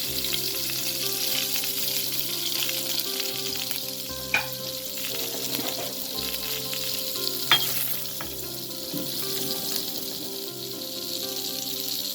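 Small shallots and fenugreek seeds fry in oil for a mackerel curry, giving a loud, steady close sizzle that runs throughout, with a couple of sharp clinks and no voices.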